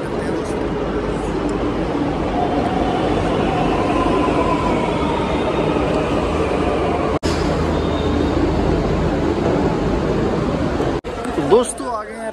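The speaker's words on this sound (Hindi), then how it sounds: "तो जी मेट्रो भी आ गई," A Delhi metro train rumbles and hisses steadily at close range, with wheels clattering and a voice speaking briefly near the end.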